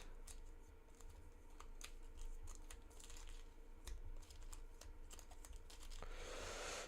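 A deck of Marvel Champions cards shuffled by hand at a table, producing a run of quick riffling clicks and ticks over a low steady background hum, fairly close and moderately quiet.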